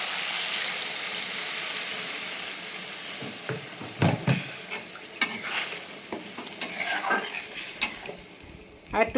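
Water poured onto fried masala in a pan, a loud hissing sizzle that gradually settles, followed by clattering stirs and scrapes of a spoon against the pan, close up.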